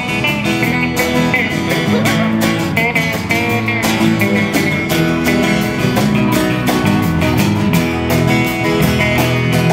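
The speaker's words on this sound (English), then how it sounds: "People like guitar solos." A loud band plays with a driving beat while a lead guitar carries a melodic solo line over the rhythm, no voices.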